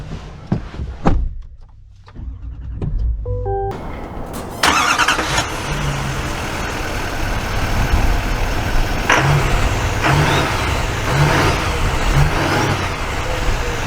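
A Duramax diesel engine in a long-bed LT pickup truck: a door thud and brief quiet cab sounds, then the engine rises into a steady, close drone with rhythmic tone shifts as the truck drives off.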